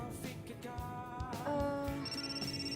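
A mobile phone rings unanswered with a repeating melodic ringtone, moderately loud and continuous over a faint background.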